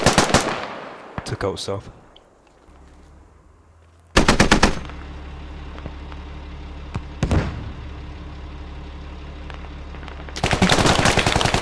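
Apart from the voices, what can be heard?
machine gun fire in a video game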